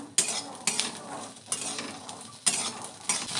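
Spices stir in a dry pan for a motorshuti bharta, with rhythmic scraping strokes of a spatula against the metal, roughly four or five sweeps over a faint sizzle, close and clear without talk.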